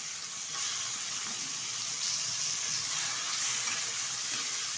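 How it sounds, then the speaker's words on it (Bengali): Small salted kachki fish fry in hot oil in a pan, giving a steady, soft sizzle and crackle that carries on without talk. "এখন হালকাভাবে ছেড়ে দিয়ে আমি মাছগুলো ভেজে নেব"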